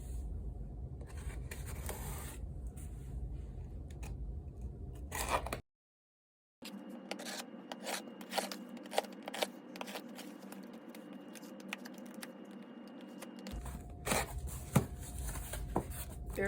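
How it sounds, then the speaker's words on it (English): Someone opens a cardboard box holding a 1/35 plaster diorama kit sealed with very tough tape, with close scraping, rubbing and tearing noises in uneven bursts, a brief dead gap, then crinkling and handling. "Let's start by opening the box."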